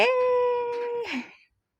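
A dog lets out a single clear, steady howl that holds one pitch for about a second, then bends downward and fades out into silence.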